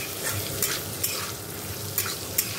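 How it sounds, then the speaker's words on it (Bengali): Peanuts fry in a pan with a steady loud hiss and sizzle, broken by a few short scraping stir strokes at regular intervals; close, no speech. "তাই একটু বাদাম ভাজি।"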